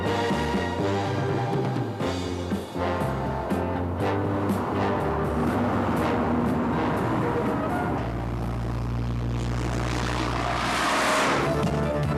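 A Koenig-tuned Mercedes sports car with a V8 engine drives at speed, its sustained, loud engine drone steady throughout, shifting in pitch as it accelerates, with a rising rush of wind near the end.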